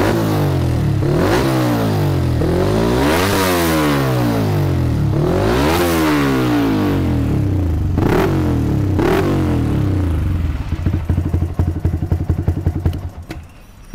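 A Yamaha R15 V3 sport motorcycle engine revs hard several times in a row, close and loud, rising and falling, then drops back to a rough idle.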